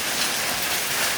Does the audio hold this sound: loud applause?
no